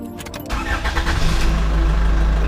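A car engine turns over briefly and catches, then settles into a loud, close, steady idle with a deep rumble.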